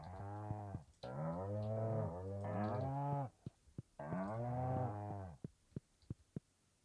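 Cattle mooing in Stardew Valley Expanded: several long, loud, close moos run back to back over about four seconds, followed by a few short sharp game clicks or ticks in near silence.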